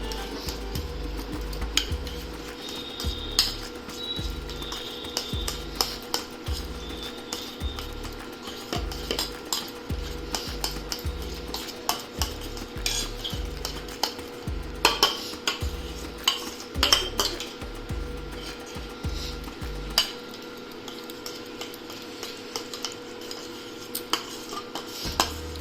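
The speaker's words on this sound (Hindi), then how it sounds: "एक चम्मच से फ्रेश क्रीम दे रहे हैं।" Metal spoon clinking against a pan while fresh cream goes into rajma masala with the gas switched off, a steady run of light taps and scrapes over a low kitchen hum, no talking.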